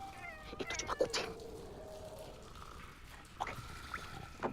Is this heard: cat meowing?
yes